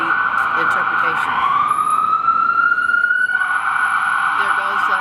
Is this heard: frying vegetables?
no